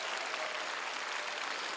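Steady applause from a crowd at an outdoor peace-and-reunification prayer rally in a Seoul plaza, a dense continuous wash of clapping, moderately distant and even, with no voices on top.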